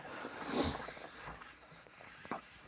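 Dust being wiped off a sanded Gibson Les Paul Studio guitar body, soft close rubbing strokes with a brief swell early on and scattered light scuffs, fairly quiet and without talk.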